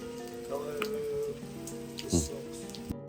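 Constant heavy rain patters on a surface nearby in Buxton while faint voices murmur underneath, ending abruptly.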